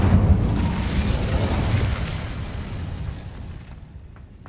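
Incendio fire spell being cast in the video game Hogwarts Legacy, a heavy whooshing burst of flame that hits loud at once and then rumbles and fades over a few seconds, with no voices.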